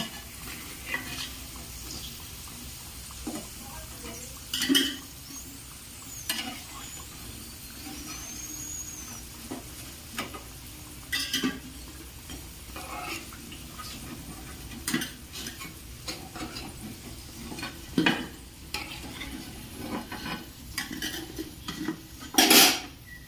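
Crispy fried potato snacks lifted one by one from a frying pan, with light scraping and clinks of a utensil against the pan over a faint sizzle, close and intermittent with sharper taps.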